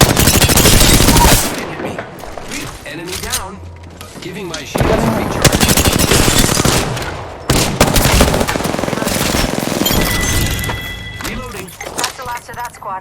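Dense, rapid gunfire bursts from the Apex Legends battle royale shooter, with loud automatic volleys in clusters separated by brief lulls, while a player talks excitedly over the shooting.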